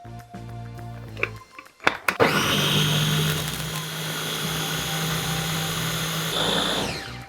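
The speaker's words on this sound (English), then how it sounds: "ready to be put into our KitchenAid or our high-speed blender and made into a puree" A loud KitchenAid mixer or high-speed blender whirs steadily for several seconds pureeing strawberries after a brief clatter, its pitch shifting slightly before it cuts off abruptly.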